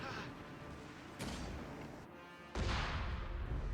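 Grenade explosions in the real-time strategy game Company of Heroes 3, dense booming blasts and rumble, with a heavy burst partway through amid continuous battle noise.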